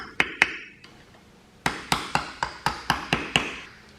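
Sharp metallic taps fold over the keepers on the flywheel bolts of a Kubota B5100 during an engine rebuild: two quick strikes, a pause, then a regular series of about eight close, ringing hits.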